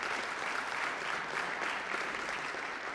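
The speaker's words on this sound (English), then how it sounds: "let's give Stephen a round of applause" A steady round of applause from a crowd at a youth football club's senior night, dense continuous clapping heard from a moderate distance, fairly quiet throughout.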